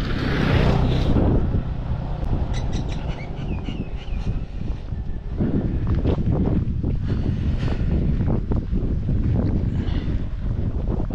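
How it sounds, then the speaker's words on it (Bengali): Strong wind buffets the microphone outdoors on a foggy winter morning in a village, a loud continuous low rumble with gusts that swell and ease throughout, no talking. "অনেক বাতাস কিন্তু এখানে।"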